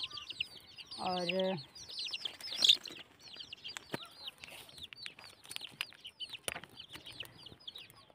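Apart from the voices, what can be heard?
chickens clucking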